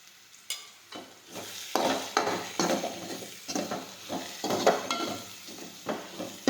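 A spoon stirs spices into cooked greens in a pan, giving soft sizzling under repeated scraping and clinking strokes in an uneven rhythm, close and moderately quiet.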